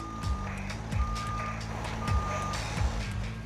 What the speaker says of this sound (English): A truck backs a shipment of juice cartons onto the loading dock.